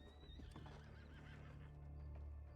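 A horse neighs in the RedM Western roleplay game, a quiet whinny with hoof clip-clops mixed in under a low game-ambience hum, with no talk.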